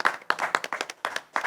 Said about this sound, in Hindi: लिए भी ज़ोरदार तालियां चाहूँगी।